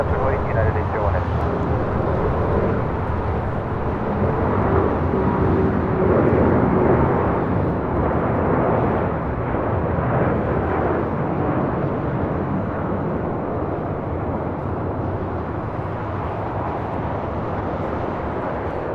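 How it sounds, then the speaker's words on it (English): A Boeing 787-9 Dreamliner jet takes off from LAX with a loud, broad roar of engines that holds steady throughout, under a voice talking. "8087 taking off to Sao Paulo, Brazil on a 787-9 Dreamliner"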